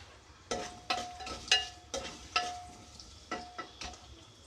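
Green chillies fry in a pan for prawn biryani, with stirring and spoon scrapes giving several sharp clinks over a soft, quiet sizzle, close by and with no talk.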